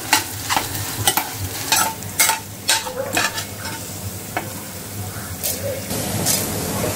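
Spices sizzling and frying in hot oil for shevla bhaji, a wild dragon stalk yam dish, with repeated sharp stirring scrapes of a spoon in the pan over a steady crackle.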